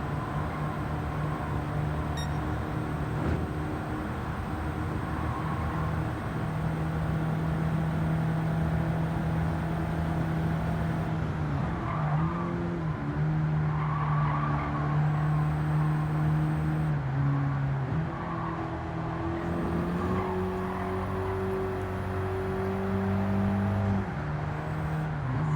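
An Abarth 500 in Gran Turismo 7 laps the Nurburgring, its engine droning steadily with tone shifts as the throttle lifts and reapplies through corners, alongside faint tire noise.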